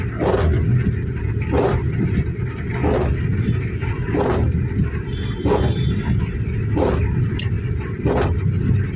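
Street traffic rumbles through heavy Mumbai monsoon rain, a constant loud low roar of wet road noise with vehicles swishing past at regular intervals, no talking.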